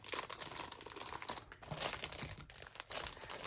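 Paper being ripped and crinkled by hand while setting up a planner, a series of close, dry tearing and crumpling bursts in quick succession.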